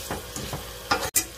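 Ground sausage frying in a skillet while a big fork breaks it up, giving a steady close sizzle with several scraping, clattering strokes and a sharp clink near the end.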